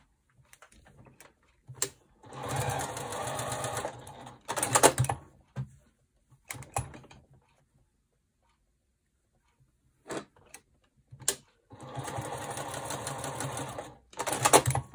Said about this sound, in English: Now we're going to be sewing a diagonal line this way and a diagonal line this way.